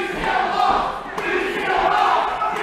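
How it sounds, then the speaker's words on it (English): Loud wrestling crowd jeering and shouting at a defeated wrestler after a match, a dense roar of voices swelling and easing in waves. "the crowd informing Mr. Levay that he still lost."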